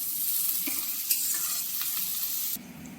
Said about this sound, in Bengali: এবার পেঁয়াজটাকে আবার ভেজে নেবো